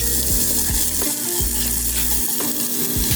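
A medium onion frying in a hot pan with spices, spattering in loud, steady close-up sizzling with a few low knocks.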